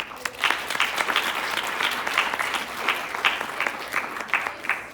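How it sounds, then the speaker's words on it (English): An audience at an environmental justice talk at Wheaton College in Norton, Massachusetts, applauds a speaker, with steady, fairly close clapping from a modest crowd that continues throughout with slight swells. "can we get another round of applause for Azure?"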